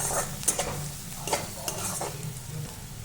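Crushed garlic sizzles in hot oil in a pan for a green mung bean dish, with a constant close frying hiss broken by several sharp stirring scrapes and clicks.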